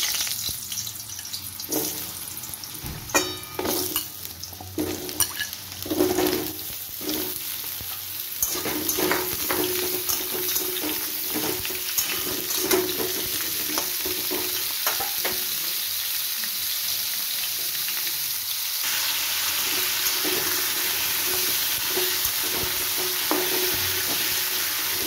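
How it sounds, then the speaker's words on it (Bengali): Potatoes fry in oil in a wok on a gas stove, with scraping and stirring rattles early on before settling into a steady, close sizzle; no voices. "প্রথমে আমি আলুগুলোকে ভালো করে ভেজে নেব।"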